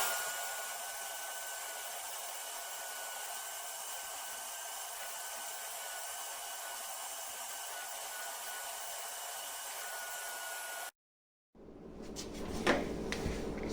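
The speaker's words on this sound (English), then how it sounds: "vacuum clean the space." A vacuum cleaner's steady, whining motor drone runs continuously while cleaning a space under a hollow tile, cuts off abruptly, then gives way to clunks and handling noises.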